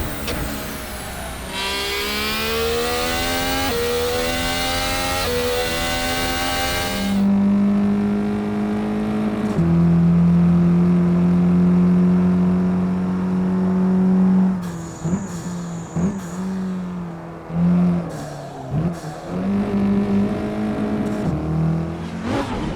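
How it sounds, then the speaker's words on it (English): A modded Mercedes-Benz A-Class engine in the Assetto Corsa racing game revs hard and loud, with rising gear pulls, a sustained high drone, then uneven throttle blips and gear changes, close and without speech. "The motor of the stock version already sounds more like the one in a racing car"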